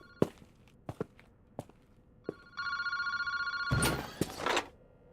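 A telephone in a park phone booth rings with a sustained electronic trill, preceded by scattered footsteps and knocks and followed by a rustling clatter as the receiver is picked up.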